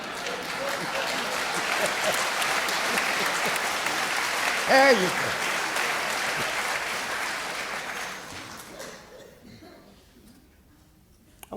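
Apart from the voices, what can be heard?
audience clapping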